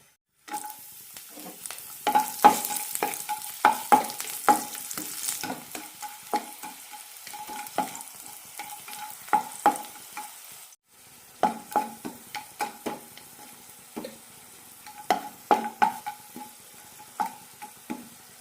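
Small pieces of garlic sizzling in hot oil in a pan for drumstick leaves idli podi, close and steady, with a spoon scraping and stirring in quick repeated strokes and a brief pause partway through.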